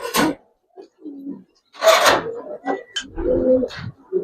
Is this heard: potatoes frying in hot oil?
no